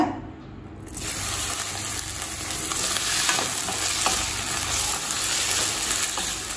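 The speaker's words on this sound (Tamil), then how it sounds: "கத்திரிக்காயை நல்லா வதக்கிக்கலாம்." Brinjal pieces fry in hot oil in a kadai for Chidambaram gothsu, a dense, close sizzle that starts after a quiet second and continues steadily with stirring scrapes.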